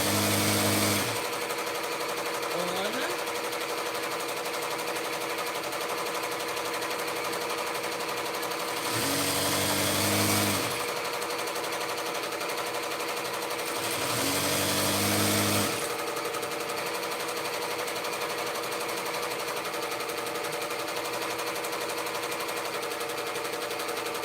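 An embroidery machine runs steadily and loudly throughout in a home craft room, a constant mechanical whir with periodic bursts of louder rapid stitching at intervals.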